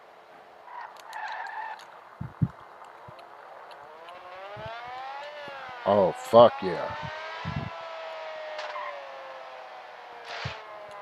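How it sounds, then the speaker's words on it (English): A high, screaming Mercedes-Benz AMG race car engine in a video game revs and shifts on a race track with rising and falling harmonic pitch, while a man briefly exclaims over it. "Listen to that motor."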